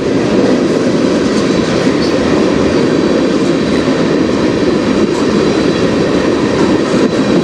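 CN freight train M301 rolling past on the Strathroy Subdivision, a loud continuous rumble of wheels and cars with steady rail noise filling the whole stretch, close by and with no voices.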